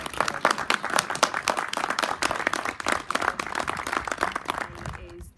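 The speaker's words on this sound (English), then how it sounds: "a real round of applause for Ray and all the work that has been done" Crowd applause at the ribbon cutting opening a men's shed in North Walsham, a steady round of clapping from a gathered group that fades out near the end.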